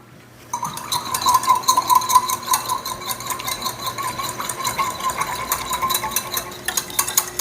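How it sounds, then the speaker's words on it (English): A whisk beats salad dressing with minced garlic in a bowl, producing fast, continuous metallic clinking strokes that stay close and steady for several seconds. "let me grab my whisk here"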